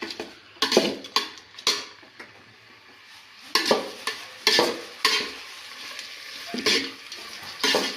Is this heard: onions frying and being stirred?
yes